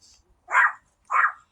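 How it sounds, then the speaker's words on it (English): Two sharp dog barks, spaced about half a second apart, heard fairly clearly with quiet around them. "Dogs barking too."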